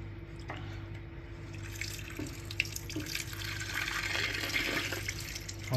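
Water runs steadily out of a rubber-lined expansion vessel as it is drained, a continuous splashing gush with a faint low hum underneath, close and moderately loud with no one talking.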